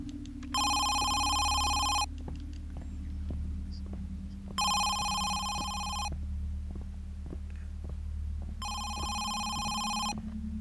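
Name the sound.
telephone ringing from a plant in Home Sweet Home video game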